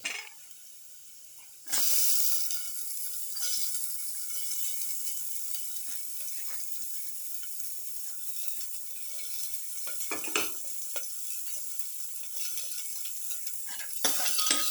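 Shallot sautéing in a pan makes a steady, moderate sizzle that starts abruptly and carries on evenly, with scattered clicks and scrapes of utensils.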